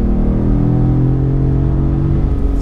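A Ford Raptor truck pulls away hard from a brake-boost launch, its engine holding a loud, steady, close rumble throughout with no voices over it.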